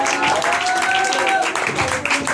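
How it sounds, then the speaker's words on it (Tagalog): A congregation claps for the Lord during a Filipino morning worship service, with lively, continuous applause mixed with voices shouting and praising over it in a reverberant hall. "Yung palakpak sa Panginoon."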